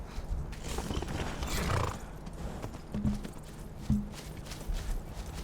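A horse in the video game Skyrim clops along with hollow, rhythmic hoofbeats, then gives two short snorting neighs close by, over a low ambient game background with no talk.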